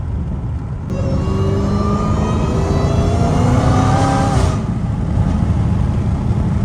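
A Dodge Hellcat Redeye's supercharged engine roars loudly and steadily under hard acceleration, its rising harmonic whine climbing in pitch for several seconds without any talk.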